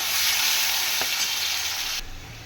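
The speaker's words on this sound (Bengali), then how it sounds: "তারপরে পেঁয়াজ দিয়ে দেবো, পেঁয়াজটা একটু লাল করে ভেজে নেবো" Onions fry in hot oil with bay leaf and whole spices such as cinnamon, cloves and cardamom, giving a dense, continuous close sizzle with one brief tap, then easing slightly.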